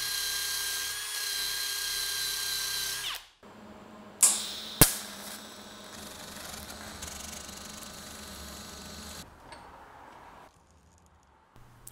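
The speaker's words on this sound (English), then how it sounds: "for the loose end, I'm just going to weld this to make it solid." Welding the loose end of a large rusty vise gives a loud, steady buzzing hiss for about three seconds, then a quieter crackling stretch broken by two sharp snaps, fading to near silence.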